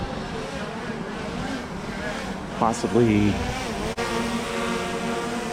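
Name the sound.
drone flying overhead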